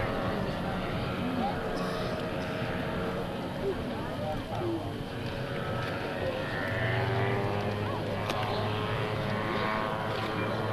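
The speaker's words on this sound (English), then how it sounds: "I believe this is George Lenhart in his Autogyro" An autogyro flying at Rotorfest 2000 airshow drones with a steady propeller engine rumble, moderately distant and sustained, while people talk over it.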